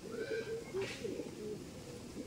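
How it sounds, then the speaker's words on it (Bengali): A male pigeon cooing softly in a breeding loft, with low, rounded coos repeating through the moment, fairly close and moderately quiet. "এটা নর পায়রা।"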